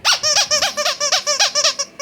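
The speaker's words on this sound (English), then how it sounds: "it has a really good squeaky in it" A squeaky dog toy squeaks loudly and close in a quick run of about ten sharp, evenly spaced squeaks, with no other sounds around it.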